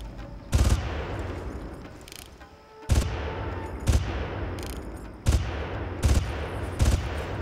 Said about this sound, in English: might as well use these rifle grenades